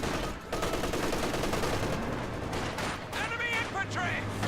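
An MG34 machine gun fires on conscripts in a WWII strategy game, a steady, continuous rattle of fire and distant battle noise lasting throughout, with speech over part of it.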